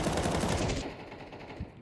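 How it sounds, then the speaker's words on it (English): Rapid automatic gunfire from a Counter-Strike 2 match fills the clip, a dense continuous burst of close shots that tapers slightly toward the end. "Couple of shots there, but nothing really connecting at the moment."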